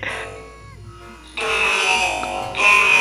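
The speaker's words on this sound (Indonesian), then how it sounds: "Robot suaranya seperti ini." Speech passed through a robot voice-changer effect, buzzy and metallic with a flat, droning tone, heard as two sustained loud bursts following a quieter lead-in.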